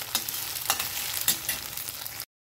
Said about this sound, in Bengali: আলুটাকে দিয়ে আমাদের খুব ভালো করে ভেজে নিতে হবে।